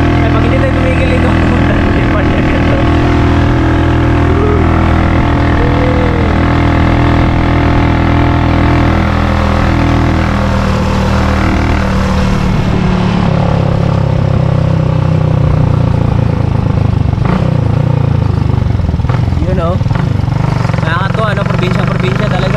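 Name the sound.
motorcycle engine while riding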